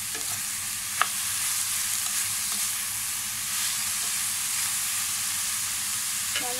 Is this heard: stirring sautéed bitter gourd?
yes